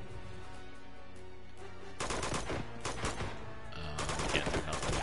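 Enemy gunfire in the video game Uncharted 2 rattles in dense, continuous volleys, growing heavier and louder partway through over a steady game background.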